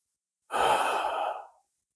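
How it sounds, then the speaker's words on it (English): One long, deep exhale lasting about a second during a yoga class in camel pose, close and soft with a breathy, sighing quality, heard alone in a quiet room. "And just really breathing here, expand the chest"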